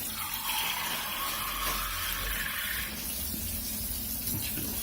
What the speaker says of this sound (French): je mets une mesure d'eau remplie plus 3/4